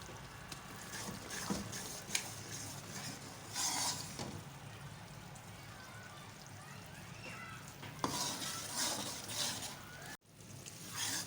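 Gram flour roasting in a pan for besan barfi, with a spoon stirring it steadily, making soft sizzling, scraping and rustling textures across the clip, the louder scrapes coming in bursts.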